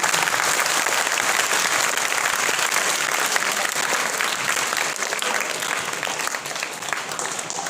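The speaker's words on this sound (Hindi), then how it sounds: "आप सभी तालियों के साथ में अभिनंदन करें।" A gathered audience at a ceremony at the Santosh education group applauds in welcome, a continuous, even roar of many hands clapping that holds steady for several seconds and eases slightly toward the end.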